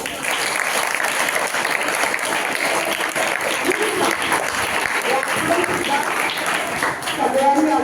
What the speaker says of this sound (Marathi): तुमच्यासाठी आज टाळ्या वाजवा सगळेजण.